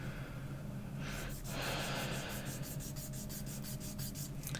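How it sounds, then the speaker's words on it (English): Fingernails being filed with a nail file, a rapid series of short, even rasping strokes, close and quiet over a steady background hum. "I just been filing while we've been talking"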